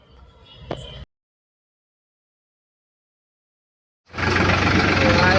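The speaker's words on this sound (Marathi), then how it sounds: "बसलो आपण पण ट्रॅक्टर चालवायला. बघू हे कसं चालतं ट्रॅक्टर." A tractor engine starts up after a brief silence and settles into a loud, steady, close running rumble, with some indistinct sound and a short knock before the gap.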